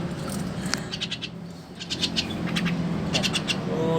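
A Javan myna (jalak kebo) gives short bright chirps and clustered calls over a soft indoor background hiss, moderately close with no talk.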